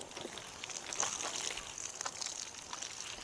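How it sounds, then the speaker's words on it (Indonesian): Water poured over a flattened seedbed to soak it before sowing chili seeds, a soft steady trickling and splashing that stays close and fairly quiet throughout, with no talking. "Ya, kurang lebih sekitar 5 menit lah kita penyiraman bedengan ini."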